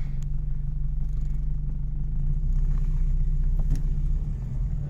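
A 1967 MG 1100 Automatic idles and pulls away, its engine a steady low rumble close by with a faint clunk and rattle as it moves off on a farm track.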